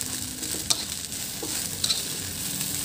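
Long bean pepper fried rice sizzles in a pan while a utensil stirs it, with a steady hiss and a few sharp scraping clinks, close up and with no talking.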